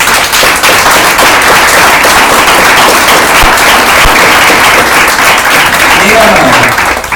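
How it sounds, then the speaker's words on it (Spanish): A church congregation gives loud, sustained applause during a sermon, a dense, crackling wall of clapping close up that lasts several seconds, with a voice faintly audible near the end. "¿Por qué no le das un fuerte aplauso?"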